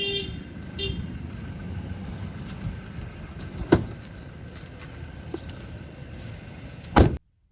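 The boot of a Honda City CNG car thumps shut with a single loud, close slam near the end, after a quieter mid-clip knock over low outdoor ambience.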